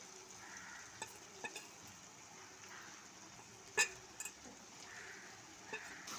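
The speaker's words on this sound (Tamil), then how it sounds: "மிளகாத்தூள் போட்டோன்னா ஒரு ரெண்டு நிமிஷம் நல்லா வதக்கி விடுங்க" Tomato masala with chili powder being sautéed in a pan, a faint, even sizzle with a few scattered clicks and one sharper tap of a spoon, quiet and close.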